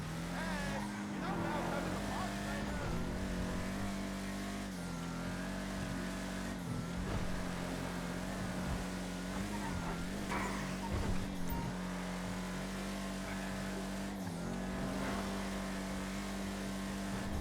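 A Rapid GT Classic car in GTA 5 Online drives fast with a continuous droning engine tone that shifts pitch as it revs, while someone talks over it.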